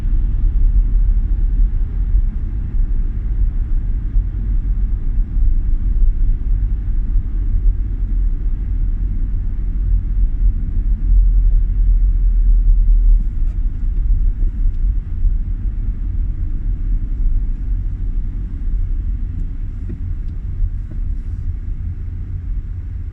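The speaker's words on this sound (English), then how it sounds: "This is fun, now it's in traffic." Inside a Renault Twingo creeping through traffic, a steady low road and engine rumble with faint wind noise runs unbroken throughout, no voices.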